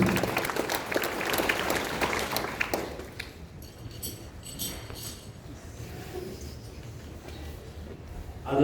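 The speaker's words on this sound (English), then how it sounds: "let us give her a big round of applause" A school assembly gives a round of applause, many hands clapping densely for about three seconds before it thins out into scattered claps and a quiet room murmur.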